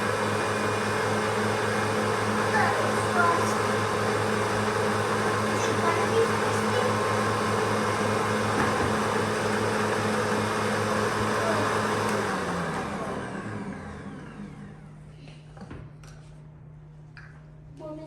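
An Ankarsrum stand mixer whips egg whites with a steady, loud motor whir and beater churn, then winds down and stops near the end, leaving a quiet hum.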